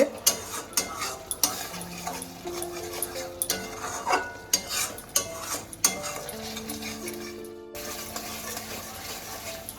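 Spice masala for paneer korma stirred and fried in a pan, with a steady low sizzle under repeated scraping and clinking of a spoon against metal, close by, with no talking.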